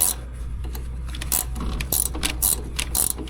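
A cotton harvester part spun by hand gives a dense, close ratcheting and clicking, with rapid gear-like ticks and scraping over a low hum and no talk.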